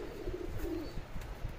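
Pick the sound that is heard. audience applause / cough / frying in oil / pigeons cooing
pigeons cooing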